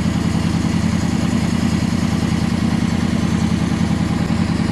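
A Honda VFR800 VTEC motorcycle engine idles during starter valve synchronization, giving a loud, close, even rumble with a fast steady pulse that holds constant throughout.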